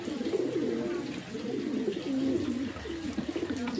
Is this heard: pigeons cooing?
yes